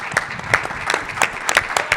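Audience at a health conference panel in Las Vegas claps, a sparse but steady patter of individual hand claps with distinct sharp hits, moderately loud and close.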